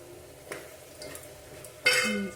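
A utensil scrapes and clinks against a pan while spices are mixed into a cluster bean curry, with a few light taps followed by a louder stirring scrape near the end.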